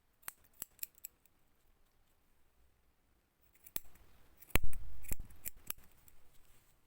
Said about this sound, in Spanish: Recortar, igualando para que quede esto bien bonito